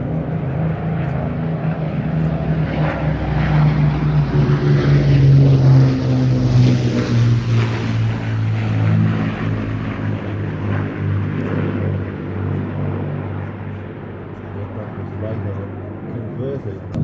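Battle of Britain Memorial Flight propeller aircraft, including Spitfires, fly past as a loud, droning engine roar that swells and then slowly fades, with a voice speaking over it.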